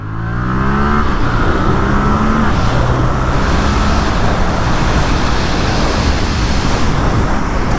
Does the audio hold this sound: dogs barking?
no